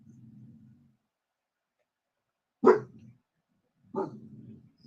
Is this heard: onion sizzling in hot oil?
no